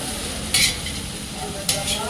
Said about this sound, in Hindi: कढ़ाई में पोहा बना रहे हैं।